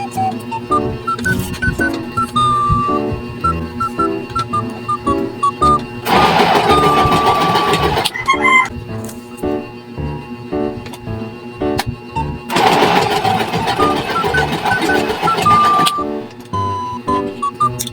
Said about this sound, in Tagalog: Ngayon, tinatahi ko siya para madugtong-dugtong.